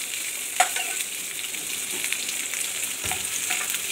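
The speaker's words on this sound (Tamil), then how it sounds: "இது கொஞ்சம் நல்லா வதங்கட்டும்." Paneer and vegetables for kadai paneer sizzle and fry steadily in a hot pan, with occasional scraping stir strokes, close and continuous with no talking.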